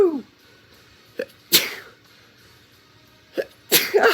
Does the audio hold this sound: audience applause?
no